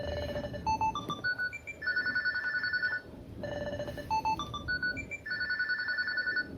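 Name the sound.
headphone find-my-device alert tone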